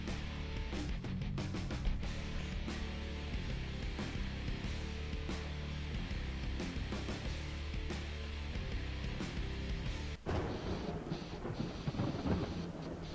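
Steady rain hisses throughout while deep thunder rolls and cracks underneath, a dense stormy wash with no talking, from the video game Gas Guzzlers Extreme.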